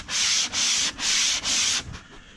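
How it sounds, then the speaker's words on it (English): Drywall corner being hand sanded with the square end of a sanding block during basement flood repair, four steady back-and-forth scraping strokes, close and loud, ending with a faint fifth rub. "if you put the square end in, and sand with the square end, and do that on both sides"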